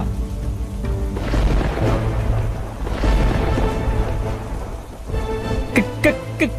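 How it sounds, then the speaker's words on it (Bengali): Heavy rain pours in a Bengali cartoon, a dense, loud, steady roar of downpour that fills the whole clip, with a few short tonal sounds near the end. "কি জোরে বৃষ্টি হচ্ছে রে"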